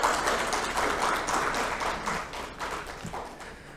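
A studio audience on a morning television talk show claps a round of applause as a guest business-school professor takes his seat, a moderate, even patter that gradually thins out.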